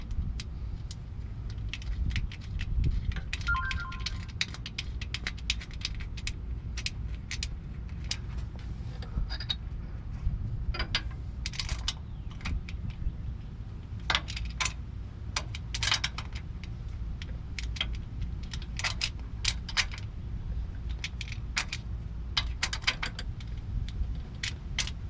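Small metallic clicks and rattles come from a new breather plug being fitted and tightened on a Toyota 4Runner, scattered over a steady low rumble nearby.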